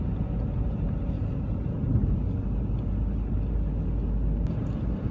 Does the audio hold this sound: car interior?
yes